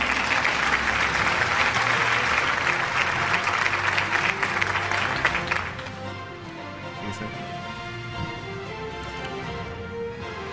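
An audience at an award show applauds loudly and continuously for about six seconds, then the clapping fades to a softer, thinner patter with faint murmuring underneath.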